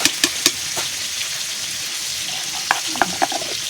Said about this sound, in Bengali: দেখো বন্ধুরা আজকে ভোলা মাছ ভাজা করছি